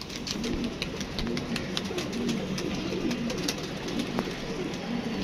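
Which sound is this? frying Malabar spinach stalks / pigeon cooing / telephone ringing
pigeon cooing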